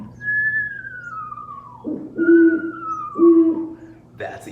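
A person imitates an eastern screech owl, voicing a descending whinny-like whistle followed by trembling hooting trills, repeated twice and fairly loud and close.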